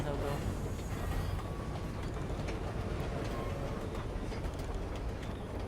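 A train rolls steadily along rails in a video game teaser, a dense continuous rumble with faint clicking and rattling, with no break.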